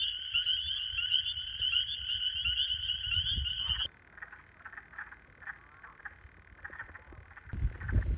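Frogs call in a springtime fen wetland: a loud, sustained trilling chorus up close, then cutting to scattered, quieter croaks and calls against faint background noise.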